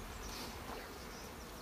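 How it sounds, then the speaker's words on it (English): Honeybees buzz in a steady, faint hum while a nuc is transferred into a full hive, a continuous close drone with no talk. "Bees right there on the edge."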